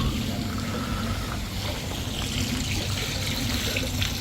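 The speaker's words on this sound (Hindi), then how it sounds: "ये आवाज़ जो है ना, ये मुझे मस्त कर देती है, पानी की आवाज़" Water running steadily during early-morning cleaning at a Dubai golf club hotel, a continuous hissing splash with no break, heard at an even, fairly close level without talk.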